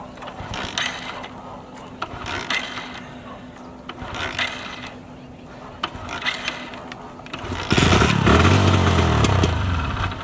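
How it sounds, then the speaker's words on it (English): Motorcycle said to run on water in place of petrol starting up: after several seconds of faint mechanical clicking and rattling, the engine catches and runs loudly and steadily close by, with no talk. "bike has managed to start"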